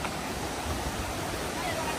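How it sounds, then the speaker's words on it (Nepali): Cold waterfall water pours in a steady, broadband rush. The sound is moderately loud and continuous, without distinct splashes. "यो हो झरनाको चिसो पानी है।"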